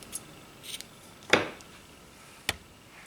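Scissors snip through baby blue crochet yarn, two quiet close clicks about a second apart amid faint handling rustle.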